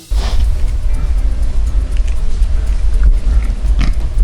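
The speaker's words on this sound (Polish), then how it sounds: "Świnia biegająca luzem po trawie to już niestety egzotyka." A free-roaming pig out on open grass in Kutaisi, Georgia, grunts and snuffles close up over steady low rumbling, with a few sharper noises cutting through the continuous loud outdoor background.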